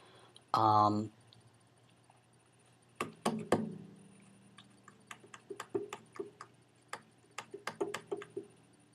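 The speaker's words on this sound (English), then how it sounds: "sorry about like the clicking. That was because my computer was falling asleep while I was trying to record." A computer going to sleep makes sharp clicking and ticking sounds in an irregular string, with a brief burst of voice near the start.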